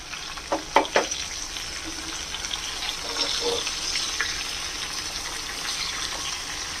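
Vegetables and prawns frying and stirred in a pan for a Bengali mixed-vegetable dish with mustard paste: a soft steady sizzle with a few sharp clattering knocks early on, fairly quiet throughout.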